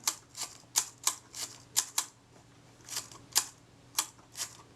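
A Kodak Retina IIa camera is worked over and over, giving a run of about a dozen sharp, close mechanical clicks from its shutter and cocking lever at an uneven pace, in a quiet room.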